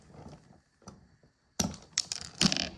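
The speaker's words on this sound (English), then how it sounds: "Cut these down, restrip them." Electrical wires in a mobile home outlet are cut down and restripped, giving a few crisp, close snips and scraping crunches after a stretch of soft handling noise.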